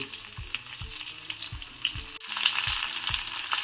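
Stuffed okra frying in a pan, a soft continuous sizzle with regular low knocks and scrapes from turning, close but fairly quiet, no voices.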